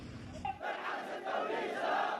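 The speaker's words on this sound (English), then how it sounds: "Vast crowds took to the street in Yemen after the Houthis, allies of Iran, launched missiles at Israel." Vast crowds chanting in a street in Yemen, a distant mass of many voices roaring together in a steady swell, fairly faint and heard through a broadcast.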